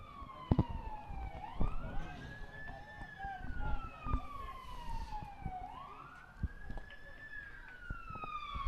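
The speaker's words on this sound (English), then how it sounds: "Ladies and gentlemen, I believe that is a siren." A wailing siren sweeps slowly up and down, heard from a moderate distance over outdoor background noise and occasional thumps at a varsity soccer game.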